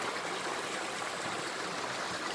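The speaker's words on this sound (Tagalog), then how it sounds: "Ang ganda ng falls." A waterfall at Wadi Qurai makes a constant, dense rushing hiss of falling water, steady and unbroken for the whole stretch.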